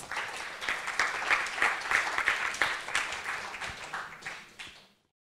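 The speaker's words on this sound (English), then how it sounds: "Can we give her a round of applause, please?" Audience applause at a myeloma forum, a steady wash of many hands clapping that holds for about four seconds and then fades out.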